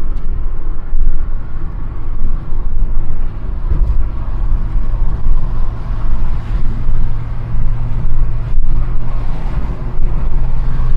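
A 1990s Volkswagen Polo Coupe Mk2F accelerates hard to overtake, heard from inside as a steady, droning engine and road roar that builds under continuous load.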